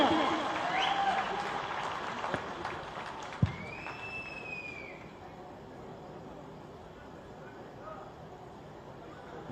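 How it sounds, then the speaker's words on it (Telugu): Crowd applause at a political meeting, a burst of clapping early on that fades into a quieter murmur with a few scattered claps and a brief whistle-like tone. "గట్టిగా విజయం కోసం చప్పట్లు కొట్టాలి గట్టిగా"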